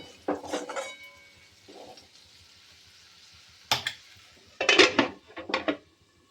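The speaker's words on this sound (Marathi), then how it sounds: "मसाल्याला असं तेल सुटेपर्यंत अशा वड्या छान परतून घ्यायच्या" Moong dal vadis (sandge) sautéed in spice masala in a pan until the oil separates, with several distinct bursts of clattering and scraping spatula strokes against the pan between quieter pauses, close and moderately loud, no talking.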